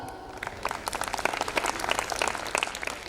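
Audience applause for young students at a school annual function, a brief burst of crowd clapping that swells quickly and holds steady, moderately close with many hands.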